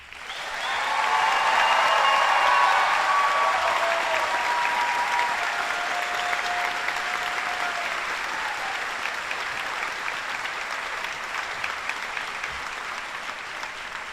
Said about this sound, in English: please join me in a final round of applause for Class 174